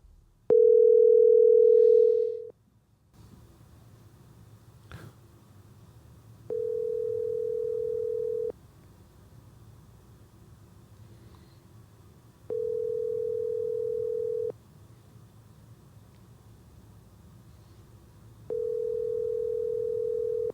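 A telephone call rings out on the line before it is forwarded to voicemail: a long opening tone, then evenly spaced ringback tones repeating about every six seconds, steady and clear over a quiet background.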